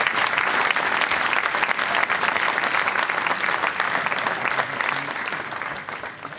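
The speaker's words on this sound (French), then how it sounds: "Donc on peut l'applaudir" An audience at a Stade Rennais fan conference applauds club president Arnaud Pouille, with steady, dense clapping from a large crowd that holds for several seconds and then gradually thins and softens.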